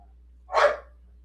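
A single dog bark, short and moderately loud against a quiet background with a faint low hum.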